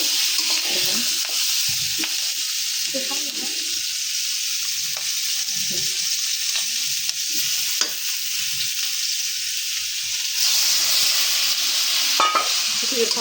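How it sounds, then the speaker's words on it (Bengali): Spice paste for a snakehead fish curry sizzles steadily in a pan while being stirred, with repeated scraping and bubbling bursts, close up and without any voices. "মশলাটা দিয়া ভালো মতো ভালো মতো কষা নিতেছি"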